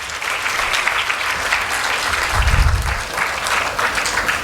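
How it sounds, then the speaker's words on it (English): Sustained applause at a school awards ceremony honouring parents, teachers and children, a dense, even wash of clapping from a large audience. "A big round of applause for all the parents,"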